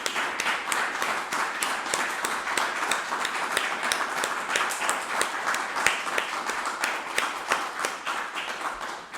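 Audience applause for Manuel Chamorro at an event, a dense, steady wash of many hands clapping that carries evenly through the whole stretch without voices on top.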